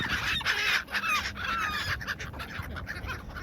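Geese and other waterbirds honk and call repeatedly while being fed beside the Serpentine in Hyde Park, London, a busy overlapping chorus of calls close by against outdoor background noise.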